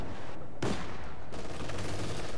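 An MG42 machine gun fires in a World War II real-time strategy game, its dense rapid bursts mixed with other gunfire and explosions in a loud, continuous battle din.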